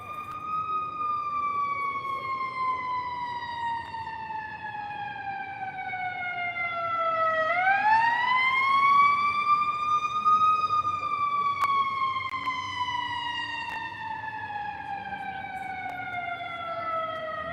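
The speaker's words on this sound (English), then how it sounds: "Oh man, there's ambulance coming." A loud, close ambulance siren wails continuously with slow rising and falling sweeps as it passes by on a Chicago street, with no talking.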